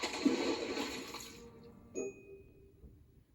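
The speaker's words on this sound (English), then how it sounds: "swim quick as a flash and jump out of the water, landing with a splash." A swimming animal leaps from the water and lands with a splash: a broad, fairly loud watery rush that lasts about a second and a half and fades, followed by a brief bright chime and quiet dripping, with no voices.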